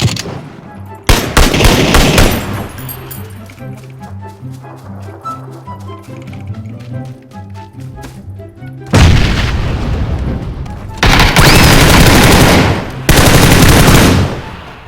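Automatic rifle fire and heavy shooting bursts from the battle royale game PUBG Battlegrounds, with rapid rattling volleys early on and several loud sustained barrages later, harsh and close.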